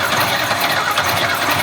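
The starter on a Pontiac Fiero cranks the engine, giving a loud, close, continuous churning drone with no voices over it.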